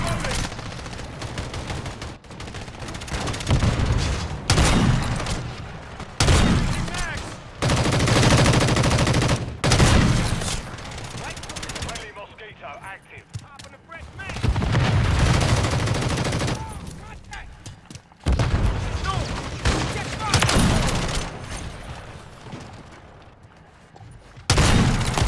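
Sniper rifle shots and rapid gunfire ring out in a multiplayer shooter video game. Bursts of loud, sharp reports come in clusters separated by short gaps, with a voice talking now and then between the shots.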